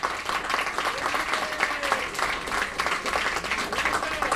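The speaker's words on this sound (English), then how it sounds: "Big round of applause for Agricola." A ceremony audience at the Mind Sports Olympiad awards gives the players a steady round of applause, dense continuous clapping with occasional voices beneath.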